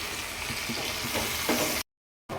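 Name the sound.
frying lentils with onion, green chili and turmeric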